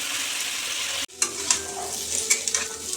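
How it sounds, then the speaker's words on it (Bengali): Potatoes hiss steadily in hot oil, the sizzle cutting out briefly then resuming with scattered crackles and pops, close and fairly loud. "তার জন্য তেলে আগে আলুটা ভেজে নিচ্ছি।"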